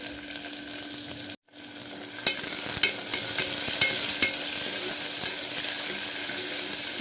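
Onions and curry leaves sizzle and fry steadily in hot oil, a dense continuous crackle with a few sharp pops and stirring clatters, briefly cut off near the start before resuming loud and close.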